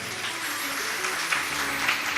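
A crowd at a Shrimad Bhagavat Katha religious gathering at an ashram claps steadily, a moderate, even patter of many hands heard from a distance.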